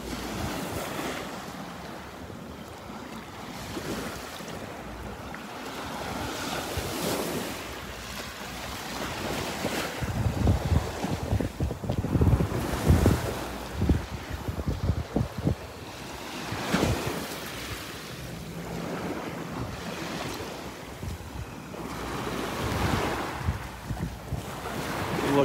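Waves wash and break repeatedly along a sandy island shore as the tide comes in, surging louder in the middle, with wind buffeting the microphone throughout.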